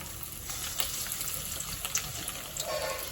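Fish kebab pieces deep fry in hot oil, giving a faint, continuous sizzle and bubbling with a few small pops and crackles scattered throughout.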